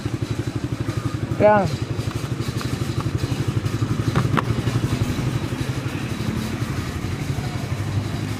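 A motorcycle sits idling up close while its overheating engine's radiator fan spins, making a steady, rapid, even thrum throughout. A voice briefly speaks over it.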